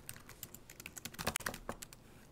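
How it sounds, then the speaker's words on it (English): Quick, uneven keystrokes on a computer keyboard, typed close and clearly with no voices, a short burst of clicks speeding up toward the middle. "So we're just going to type"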